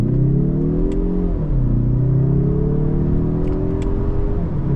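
A 2025 Mazda 3 Turbo hatchback accelerates at full throttle in manual mode from first gear, its engine note climbing steadily, dipping briefly at a gear change and rising again, loud and close from inside the cabin.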